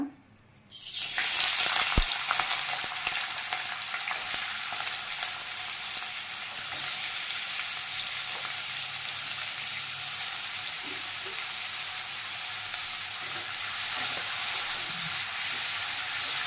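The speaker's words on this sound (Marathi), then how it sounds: "आता आपण मसाला फ्राय करून घेऊ।" Whole spices (black and green cardamom, cloves, coriander seeds, cumin, sesame seeds) frying in hot oil for a chicken curry masala, a steady close sizzle starting abruptly after a brief silence and continuing throughout with faint stirring.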